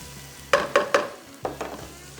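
Ginger and garlic frying in hot oil on high heat: a quiet sizzle punctuated by a quick series of three sharp clinks or stirring taps, then two or three softer ones, close by and without talk.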